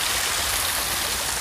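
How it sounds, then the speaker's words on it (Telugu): Steady, continuous rush of water splashing down in a water feature on an office campus, a dense hiss close by with no voices over it. "రియల్గా వాటర్ పడుతున్నట్టు ఆ సౌండ్ బాగుంది కదా"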